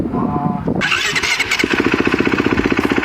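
A powerful motocross bike starts up close by with a sharp mechanical squeal, then settles into a loud, rapid, pulsing idle.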